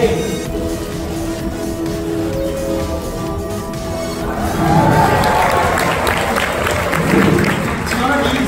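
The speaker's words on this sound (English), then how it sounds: "make a round of applause for Jack" Audience at a Cirque Vertigo circus show at Busch Gardens breaks into applause and cheers for a performer, starting softer under background sound and swelling louder after a few seconds, with shouts mixed in.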